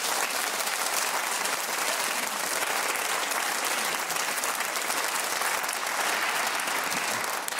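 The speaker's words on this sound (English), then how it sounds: "I'm sure our radio theatre audience is keen to show its appreciation with this true, mad, and deeply vibrant round of applause." Radio theatre studio audience applauding during a quiz programme broadcast, a sustained, dense round of clapping that fills the whole stretch at steady loudness with no talk over it.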